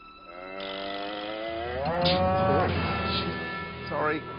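A dairy cow being hand-milked lets out one long, loud, close moo that rises and falls, followed by a few shorter grunting calls near the end.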